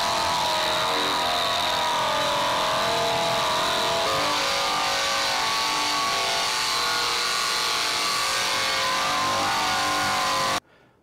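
A 40-grit abrasive on a roll-on system grinds continuously across a metal panel in a home garage, a loud, steady, harsh scraping roar that runs unbroken and cuts off abruptly at the end.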